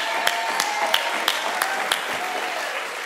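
Rhythmic clapping during an Easter Sunday church service: about six sharp, evenly spaced claps over the first two seconds, steady and fairly close, with a faint background murmur and nothing else prominent.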